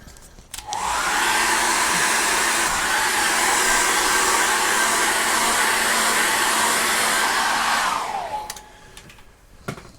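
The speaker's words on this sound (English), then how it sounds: "I'm just going to hit that with a hairdryer now and make sure this is really dry" Hair dryer blowing steadily on a freshly painted acrylic landscape canvas, a loud continuous whooshing roar switched on just after the start and off near the end, with no talk.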